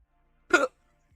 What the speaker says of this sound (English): I got the hiccups and they won't go away